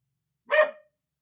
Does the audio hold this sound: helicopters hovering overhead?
no